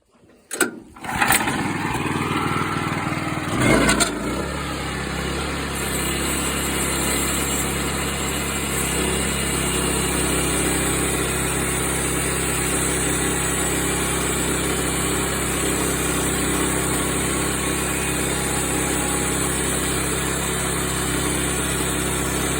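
A small engine kicks up and settles into a loud, steady drone as an LX25 sawmill, fitted with test blades set for tooth experiments, cuts a board, running alone at a constant pitch for about twenty seconds.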